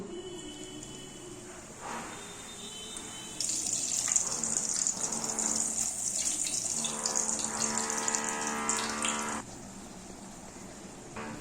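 Steady, loud sizzling of luchis frying in hot white oil in a karai, a broad hiss that swells midway and stays strong for several seconds before easing back.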